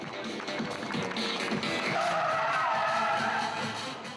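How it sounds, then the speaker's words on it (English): A stunt car driven by a precision stunt driver skids with loud tire squeal at a motor show, the broad screeching roar swelling and holding steady amid crowd and arena noise. "British precision and stunt driver, the appropriately named Russ Swift, did his stuff, complete with 3 wide-eyed passengers plucked from an appreciative audience."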